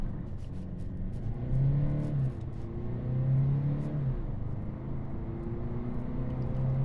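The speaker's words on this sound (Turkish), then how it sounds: "Işıklardan bir kalkış yapalım bakalım. Ben dip gaz yaptım." A Mercedes A180 with a Renault 1.5 dCi diesel (109 hp) pulls away from traffic lights at full throttle, its engine note droning steadily and rising through the gears over road and cabin noise.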